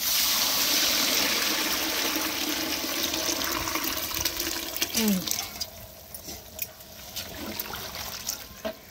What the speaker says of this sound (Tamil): புளி தண்ணியை சேர்த்துக்கலாம்.